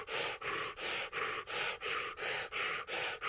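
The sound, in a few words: breath of fire, rapid yogic breathing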